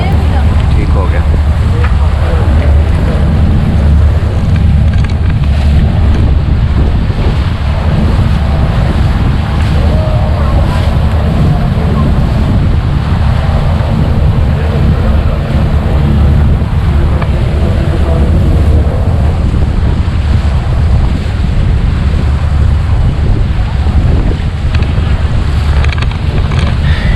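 Cold wind buffets the microphone over a constant roar of waves and water rushing past a boat on a sea trip off Dubai, loud and unbroken throughout, with voices faintly mixed in.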